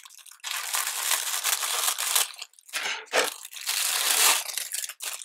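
Crinkly plastic packaging around new kitchen strainers is cut and torn open, loud continuous crackling and crumpling close by with a couple of short pauses.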